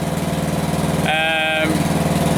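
Westwood T1200 garden tractor engine idles just after starting on a little choke, a steady close pulsing drone, with a brief whistle-like squeal riding over it midway.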